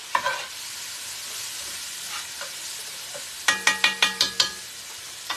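Food sizzles softly and steadily in a pan, joined by a quick run of six sharp metallic taps like a utensil knocking the pan rim, with no voices.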